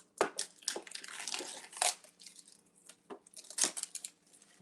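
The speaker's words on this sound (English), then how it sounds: "Very satisfying always to get plastic wrap off." Plastic wrap crinkles and tears as it is peeled off a metal marker tin, with close, sharp crackling bursts that stop and start irregularly over a few seconds.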